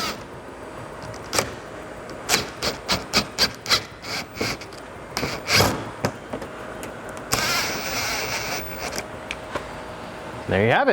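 Power impact gun running splitter nuts onto a Toyota GR86 front splitter kit, a close series of sharp rattling bursts mixed with handling clatter, with a brief spoken remark.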